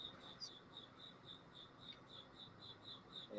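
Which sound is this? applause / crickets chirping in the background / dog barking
crickets chirping in the background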